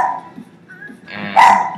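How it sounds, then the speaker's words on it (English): A dog barks in the background, with a short muffled yelp followed by a sharper, louder bark at the end, heard alone without talk. "Haley, my dog's barking."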